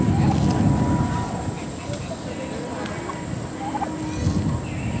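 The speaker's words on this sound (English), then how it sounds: "American wild turkey." A wild turkey gobbles nearby outdoors, its rattling calls repeating over steady wind noise on the microphone.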